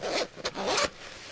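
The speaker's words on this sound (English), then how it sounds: "The zipper is very functional, and when sealed, does a good job of protecting the Kindle from" Zipper on a Case Logic canvas Kindle case, a few quick close-up rasping zip strokes in short bursts, heard alone without talk.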